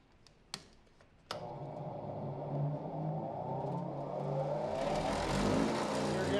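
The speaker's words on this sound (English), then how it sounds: "Now I'm going to go ahead and buff the tool." Buffing wheel polishing a tablet press punch tool: a couple of sharp clicks, then a motor spins up and whirs steadily, rising into a louder, harsher grinding hiss near the end.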